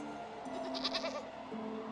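A mountain goat in the video game Wytchwood gives a single quiet, wavering bleat lasting about a second over soft game background music.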